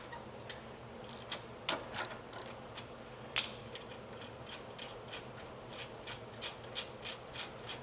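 A hand ratchet with an extension and a spark plug socket clicks in quick, faint, close bursts of pawl ticks while working a spark plug on a snowblower, with no talking.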